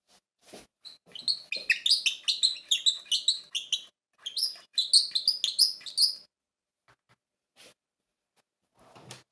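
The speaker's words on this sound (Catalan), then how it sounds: "El rossinyol, molt bé!" A nightingale sings nearby in quiet surroundings, two bursts of rapid, high, varied chirps and trills separated by a short pause.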